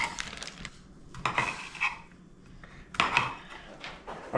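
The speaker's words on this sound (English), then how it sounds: "Gotta cut them up a little bit, cut them in half." A knife chops through sausages on a cutting board, with a few scattered clacks and knocks of the blade against the board, fairly close and with no voices.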